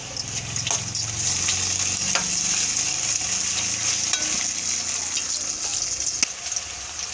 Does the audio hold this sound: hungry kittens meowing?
no